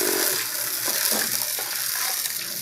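Gourami fish sizzles in a pan with sweet soy sauce and spicy seasoning while being stirred, a steady close frying hiss with soft scraping movements throughout.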